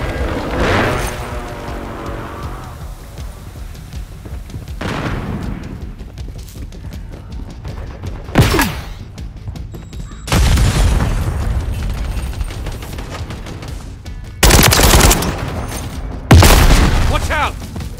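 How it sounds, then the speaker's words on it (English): Airstrike explosions and gunfire in a Call of Duty Modern Warfare III team deathmatch: several heavy, sharp booms land a few seconds apart, each with a rumbling tail, over scattered shots and background battle noise. "Friendly airstrike in the AO."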